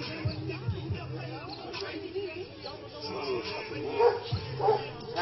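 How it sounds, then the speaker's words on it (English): A dog barks in bursts during a police arrest scene, several yelping barks at the start and again near the end under murmuring voices and background noise. "Like the dog is barking."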